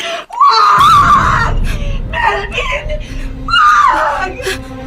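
A woman in a Filipino radio drama screams in loud, wavering wails that rise and fall, with a second scream near the end over a low rumbling background.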